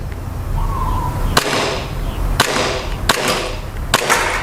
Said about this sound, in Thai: ผมก็ยิงเป้าไปเลยครับ